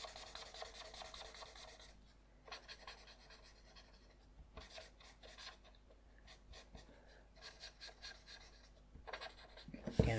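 A fine-tip dark grey pen shades on paper in soft, close scratchy strokes that come in bursts of a second or two with short pauses between, faint and steady, with no talk.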